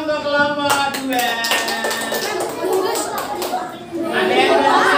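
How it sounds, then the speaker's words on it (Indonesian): A classroom of students claps for a presenting group during a lesson, a burst of scattered hand claps mixed with children's chatter and voices, fairly close and lively. "Tepuk tangannya untuk kelompok 2."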